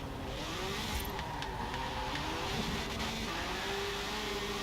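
Upgraded, cammed NSX-R GT race car in Forza Horizon 4, its engine holding a steady, fairly faint revving drone with slight rises in pitch throughout, with no voices.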